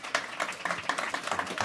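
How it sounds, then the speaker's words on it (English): Audience applause for a panel at a clean energy summit in the District of Columbia, a brief burst of scattered clapping that sounds fairly thin and close, with no talk. "Please help me give them a warm round of applause."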